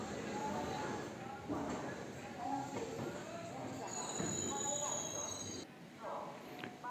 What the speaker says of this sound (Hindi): दोस्तों हमारा प्लेटफॉर्म नंबर 4 पर अराइवल हुआ है रतलाम जंक्शन पे।